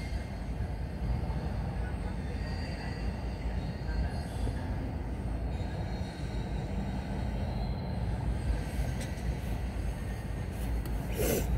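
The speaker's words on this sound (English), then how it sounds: "Oh wait, maybe it's because of the CN, this train right here." A CN freight train rolls past on the railway tracks, a steady, loud, continuous rumble of wheels and rail clatter with faint squeals, close by and unbroken throughout.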